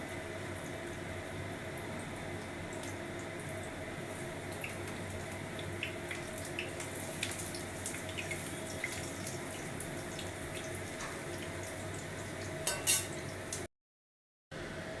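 Pumpkin leaf pakora fry in hot oil as a steady, even sizzle and bubbling hiss that runs on without a break, with a brief clatter near the end as the fritters are flipped, and then a sudden cut to silence.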